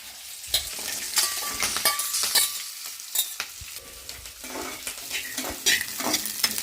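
Coconut pieces and green chillies fry and sizzle in a pan for chutney, with steady crackling broken by sharp stirring scrapes and clinks of a utensil, close and fairly loud, with no voices.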